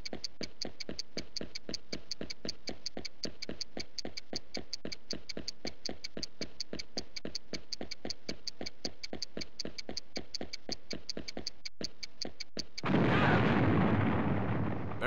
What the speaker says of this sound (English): move to the mark before time runs out to escape the blast